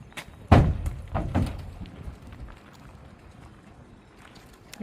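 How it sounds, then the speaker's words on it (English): Roman, a 12-year-old bay gelding, steps up into a step-up trailer, his hooves landing in two or three loud hollow thunks on the trailer floor, followed by fainter shuffling and rattling. "here's Roman being loaded in the trailer."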